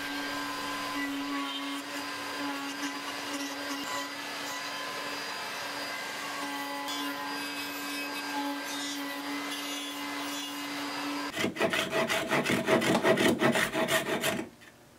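A PantoRouter cutting walnut dowels, three at a time, hums steadily with a sustained motor tone for several seconds, then turns into a louder, rougher grinding rasp near the end before stopping abruptly.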